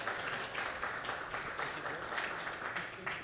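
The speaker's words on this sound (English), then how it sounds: "let's give him a round of applause" An audience at an Astronomy on Tap event in San Antonio claps in a steady, sustained round of applause, the many hands blending into a continuous patter at moderate distance.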